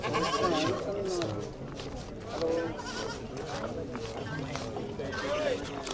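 Goats bleat repeatedly at close range, wavering cries overlapping with people talking nearby.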